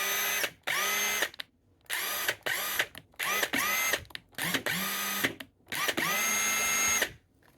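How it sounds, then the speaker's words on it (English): Porter Cable 20V cordless impact wrench running freely without load, a series of about nine sharp whining bursts of varying length separated by short pauses, close and loud, each spinning up and cutting off abruptly. "Now, a lot of people like to hear a drill run."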